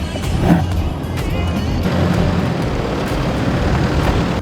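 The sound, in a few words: four-wheel drive vehicle accelerating on an off-road track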